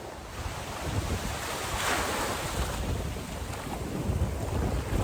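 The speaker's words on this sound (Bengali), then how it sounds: "ঢেউ কেমন বল" Sea waves wash steadily onto a quiet, secluded beach near Kolkata, a continuous broad rush of surf mixed with wind noise buffeting the microphone, with no voices.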